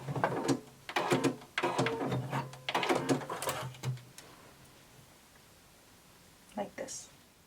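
A sewing machine backstitches a seam on a bodice, running in several short start-stop bursts of motor whirring over about four seconds, then falls quiet with a couple of faint clicks near the end.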